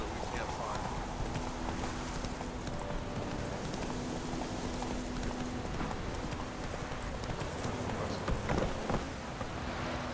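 Horse hooves clip-clop in a steady walking rhythm in the video game Witcher 3, under game ambience with spoken voices over the top.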